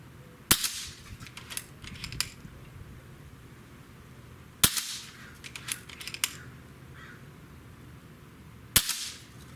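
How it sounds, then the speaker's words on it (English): An Umarex Zelos air rifle firing slugs: three sharp, close cracks spaced several seconds apart, each followed by quieter clicks and handling noise. "now 5 shots with the slugs, and let's see how well we can make these group"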